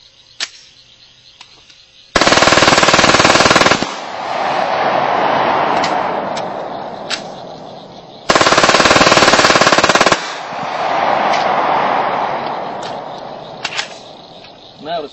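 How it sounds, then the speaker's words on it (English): Glock 17 pistol firing incendiary rounds at a steel target, two dense bursts of rapid shots lasting almost two seconds each, each followed by a long, loud roaring rush, with brief sharp clicks before, between and after. "now we've got some incendiary rounds. We're going to shoot our steel target."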